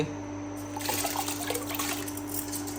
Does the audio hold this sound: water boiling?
yes